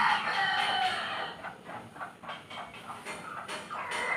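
A hen sitting to lay eggs clucks and calls repeatedly at close range, with short bursts of cackling over a steady background hum.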